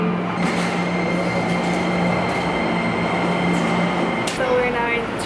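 A train runs through a Shinjuku station in Tokyo with a loud, steady rumble and a faint wheel squeal, ending in a rising screech as it brakes. Voices murmur faintly underneath.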